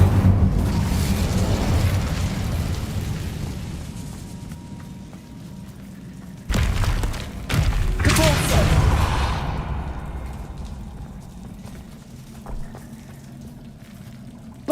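Incendio fire spell cast in the video game Hogwarts Legacy, heard as a loud, roaring burst of flame that flares up sharply, swells for a couple of seconds and then fades into a rumbling, crackling tail.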